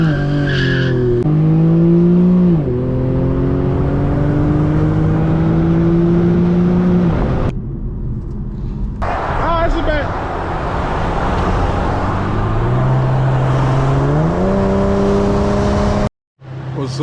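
An Infiniti G37 doing stunts at sunset, its engine roaring and rising in pitch as the tires skid and squeal almost without a break, loud and close, with a short dropout near the end.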